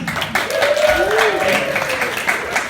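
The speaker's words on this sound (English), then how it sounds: "So give her a big round of applause." Audience applause at a live comedy and science show in San Francisco, a steady wash of clapping running throughout, with overlapping voices and cheering on top.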